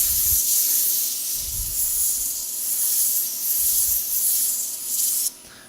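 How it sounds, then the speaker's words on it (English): Drum sander shaping the inside curve of a wooden spoon gives a steady close hiss, with low rumbling pulses as the wood is pressed against the drum, ending abruptly. "I would do the inside curve first, and I use the drum sander"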